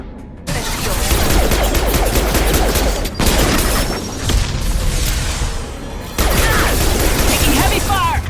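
Heavy gunfire in a Mass Effect 2 firefight, dense bursts of shots and booms rattling almost nonstop, loud and close, with a few short breaks in the barrage.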